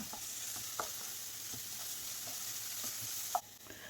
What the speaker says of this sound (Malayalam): എല്ലാം ഇട്ട് കൊടുത്തൊന്ന് വഴറ്റി കൊടുക്കാം